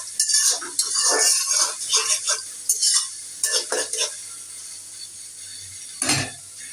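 Raw chopped onions go into white oil in a kadai with bright, loud sizzling and clattering stirs that rise and fall in bursts, followed by a quieter stretch and one sharp clank near the end.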